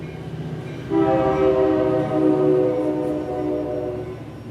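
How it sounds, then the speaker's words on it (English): A train passes outside an art studio, its horn sounding loud and sustained with a layered harmonic tone for about three and a half seconds over a low rumble of rail noise. "Get to witness the train as usual."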